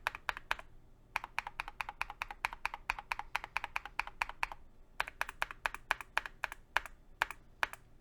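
Rapid clicky keyboard typing up close on a QK100 keyboard with Cerakey V2 keycaps hitting each other on the bottom row, a fast series of sharp clacks with brief pauses between bursts.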